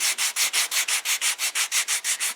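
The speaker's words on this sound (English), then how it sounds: "I've got a ways to go sanding these" Thick wooden parts for a Guillows B-25 model airplane are sanded in quick, even back-and-forth strokes, about a dozen raspy scrapes in steady rhythm, close and loud with no voices.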